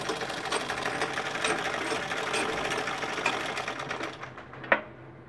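Sewing machine running steadily while stitching cord piping, a continuous fast mechanical whirr with no pauses, close and fairly loud, ending with a small click.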